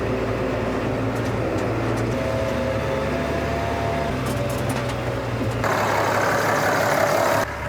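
A blue Massey Ferguson 165 4x4 tractor's diesel engine runs steadily outdoors at a mud-hole recovery, a loud, continuous low rumble that rises in intensity near the end, with no talk.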